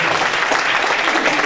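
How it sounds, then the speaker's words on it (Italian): Applause at a Christmas gala at Golf Marco Simone near Guidonia, Rome, greets a guest: a full, steady patter of many hands clapping at once, sustained and fairly loud from start to end. "con grande entusiasmo di Lavinia, alla quale va veramente un grande applauso"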